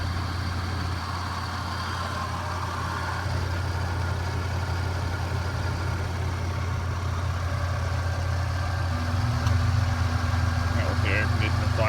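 A 2001 Toyota Tacoma SR5 Prerunner engine idles smoothly, an even low hum that holds steady nearby, while someone talks over it and the tone shifts slightly near the end.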